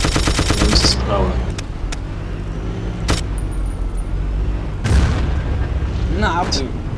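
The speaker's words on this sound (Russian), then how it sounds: "С пулемета кто стреляет?" Machine-gun fire and explosions in the World War II shooter Battlefield 1942, loud bursts of rapid shots and heavy booms over a constant engine rumble, with someone talking over the action.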